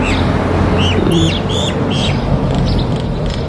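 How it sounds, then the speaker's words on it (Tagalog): Several birds chirp in short bright bursts overhead, over a dense, noisy outdoor background in Al Hunayniya, Bahrain, the calls repeating irregularly throughout. "Pakinggan nyo. Marami yan dyan ibon sa taas."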